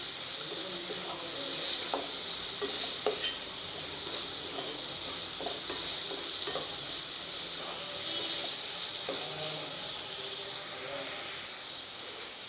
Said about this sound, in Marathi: मध्यम गॅस ठेवायचा आहे आणि कांदा शिजू द्यायचा आहे